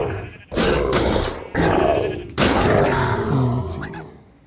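Ravager and Iron Golem brawling in Minecraft, three heavy thumping bursts with grunting roars, each followed by a fading rumble, loud and close.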